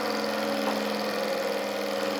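A Stirling engine running at about 1,500 RPM gives a steady, even mechanical hum with a constant tone and no variation, heard up close with no talking.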